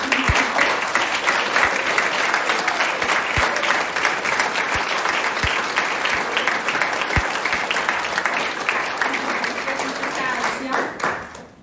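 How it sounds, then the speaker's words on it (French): A municipal council swearing-in in Bouctouche, where the crowd applauds the new council with sustained clapping, a few sharp louder claps standing out, before it thins and fades at the end. "donner une bonne main d'applaudissement à notre nouveau conseil municipal"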